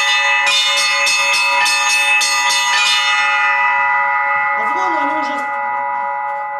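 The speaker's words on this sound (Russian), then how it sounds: "Под звон уже стали ритм отбивать чаще." Church bells ring loud and close in a quick, repeated rhythm of overlapping strikes whose long ringing tones carry on, then the strikes stop and the tones slowly fade while a voice speaks briefly under them.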